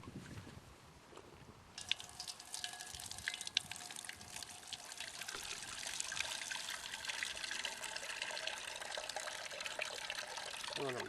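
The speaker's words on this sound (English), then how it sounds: "I'm dripping water on my wood." Water trickles and drips steadily onto wood beside a Firebox stove after filling a pot, a soft continuous patter that starts after a quiet opening and carries on to the end.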